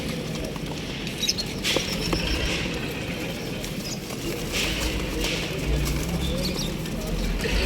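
Soft pigeon coos murmur over a busy, rustling background, with faint flutters and scattered clicks, at a pigeon market in Lahore.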